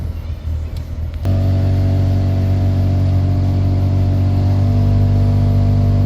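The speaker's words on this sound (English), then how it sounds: "All the fan selections are switching, but that motor's really loud" Heater blower fan motor in a 2005 Toyota Camry kicks on abruptly and runs loudly, a steady droning hum with strong tonal whine filling the cabin after a brief rustle.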